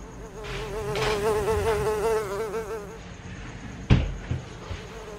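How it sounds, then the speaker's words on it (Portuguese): A mosquito's high, wavering whine buzzes close and loud for about two seconds, rising and falling in pitch, before fading; a sharp knock follows and then a softer one. "Mosquito da peste, se eu acho esse mosquito"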